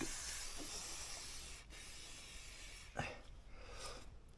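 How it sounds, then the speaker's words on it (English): Aerosol lubricant hisses from a can onto the chain of a Honda NC750X motorcycle, a faint steady spray running for several seconds with a couple of brief louder bursts, no talk over it. "I'm going to just spray a bit"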